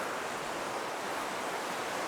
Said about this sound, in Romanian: Curge apa cu putere.